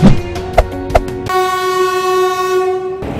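Bharat Darshan special train pulling into Asansol station, with a few sharp clanks and knocks followed by a long, loud, sustained horn blast that cuts off abruptly near the end.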